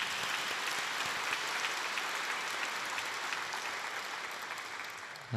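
A church congregation applauds to encourage its youth and next-generation ministry groups, a steady broad wash of many hands clapping that holds for the whole stretch, slightly far and even.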